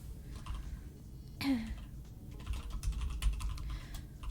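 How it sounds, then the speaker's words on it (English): Keys clatter in uneven bursts of typing on a computer keyboard, fairly close and moderately loud, with a brief throat-clearing sound partway through and no speech. "I am having some difficulty with typing off kilter."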